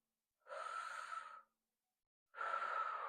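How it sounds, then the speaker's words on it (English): Two slow, deep breaths drawn into the abdomen, each a soft airy inhale lasting about a second, separated by silence; close and quiet with no talking. "Notice as I breathe in, I'm only breathing in to my abdomen hand"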